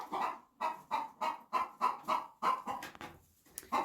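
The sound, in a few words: broody hens clucking in barn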